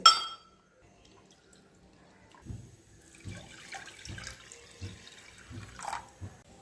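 Green gram is washed in water, a run of soft rhythmic sloshing and swishing in a vessel at about one-second intervals, close and fairly quiet, after a brief sharp knock at the start.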